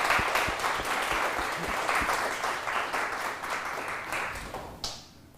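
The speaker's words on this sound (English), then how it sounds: "Please give a round of applause for Dr." An evening lecture audience applauds the speaker with full, steady clapping that fades out near the end, with a few loud individual claps close by.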